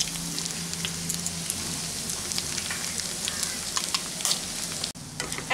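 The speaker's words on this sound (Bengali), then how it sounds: "এখন আমি এর মধ্যে দুটো ডিম দিয়ে দিচ্ছি" Steady, bright sizzling of eggs frying with potato and onion in a pan, with a continuous crackle and occasional stirring sounds, close and alone, with a brief dip near the end.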